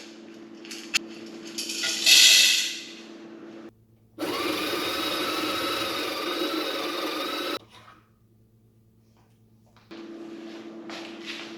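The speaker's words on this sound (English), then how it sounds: "Okay, we have our 18 grams ready to grind." A coffee grinder at a bakery, grinding 18 grams of medium roast beans for a Breville Infuser, whirs loudly and steadily for about three and a half seconds between quieter stretches of room hum.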